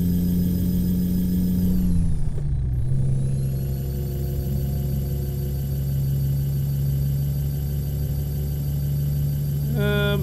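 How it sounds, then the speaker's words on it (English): Simulated Cummins diesel engine of an International 9300i truck in American Truck Simulator, a steady loud drone with a brief dip and shift around two seconds as the engine note drops, then settling into a constant hum. "the engine that I've got today is the Cummins"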